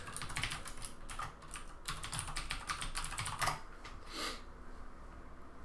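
Keys clatter steadily on a computer keyboard as login details are typed, a close run of quick, uneven taps with brief pauses and no talking.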